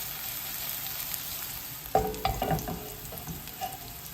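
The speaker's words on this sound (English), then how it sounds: "heat some oil in a pan. Then add your mushrooms cut side down" Mushrooms, cut side down, hit hot oil in a pan and start to sizzle midway through, with a few scraping moves as they are shifted around, close and fairly quiet.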